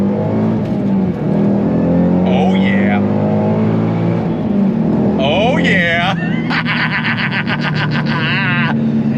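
Ford Shelby GT500 S197 muscle car engine accelerating hard on throttle, a loud steady drone with rising revs close up, mixed with an intermittent voice.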